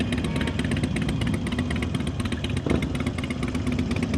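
A motorcycle engine runs steadily at low revs through slow-speed riding practice, with a constant close mechanical drone and light clatter.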